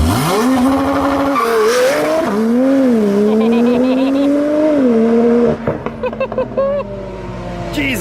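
A 1100HP sequential Mitsubishi Evo IX race car running 50 psi of boost on a Boost Logic exhaust revs hard and loud through several gear pulls, its engine note rising and dropping, then cuts off abruptly into popping and crackling.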